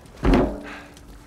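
In Uncharted 4, a gear bag gets tossed down and lands with a single soft, heavy thud close by, followed by a brief quiet tail.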